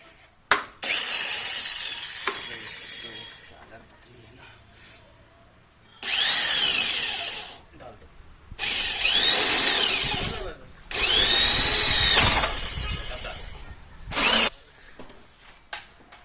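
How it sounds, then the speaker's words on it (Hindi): An electric drill bores a hole while a Bajaj Super petrol scooter is converted to electric, running in several loud bursts of whining drilling, with pitch shifts as the bit loads and frees, separated by quieter pauses. "छेद करने के लिए हमारे पास में एक अल्टीमेट मशीन है।"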